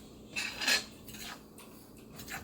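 Dry chicken breading seasonings with garlic, salt and basil are stirred in a bowl, giving a few soft scraping swishes of utensil against bowl, faint and close.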